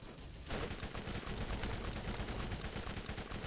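Sustained rapid gunfire in the video game Borderlands, dense and loud, bursting in after a brief quieter moment and continuing as an unbroken fusillade.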